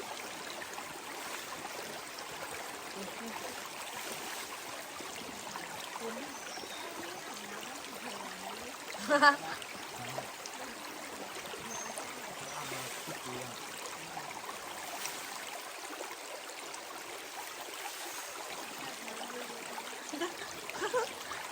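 Water runs in a steady, quiet trickle during washing on a second rinse, a soft continuous stream with a brief clatter midway.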